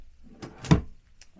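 A small file drawer in the solid light-cherry wood computer workstation of a 2003 Intrigue motorcoach slides open or shut with one soft, brief thud, close and alone in a quiet interior.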